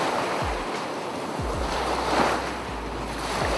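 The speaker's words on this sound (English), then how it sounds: "here's some footage of the beach that I took from our last vacation where I added the sounds of the ocean to make it feel more realistic" Ocean waves added as a sound effect over beach footage, a steady, moderately loud surf wash with low thumps from wind on the microphone and no talking.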